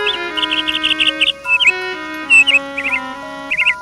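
Birdsong used as a sound effect in a Hindi story, bright repeated chirps and trills over a soft sustained music backing, loud and close.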